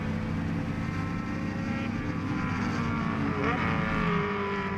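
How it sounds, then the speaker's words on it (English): Under-2.5-litre Datsun production race cars battle side by side into a right-hand turn at Sonoma. A continuous loud roar of engines drones steadily, with a slight rise as they pass. No voices are heard over it. "The two Datsuns, like yesterday, are going at it into turn 4 of the right-hander."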